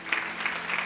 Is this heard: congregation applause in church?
yes